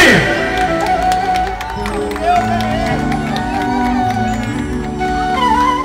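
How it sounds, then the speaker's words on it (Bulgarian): Wedding guests clap and cheer as a band keeps playing, a steady wash of applause blended with music and crowd noise throughout. "Аплодисменти!"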